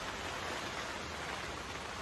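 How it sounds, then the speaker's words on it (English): Heavy rain pours down in a garden, a dense, even hiss of falling water filling the whole stretch with no gaps, steady and fairly quiet. "The rain's coming down pretty heavy now."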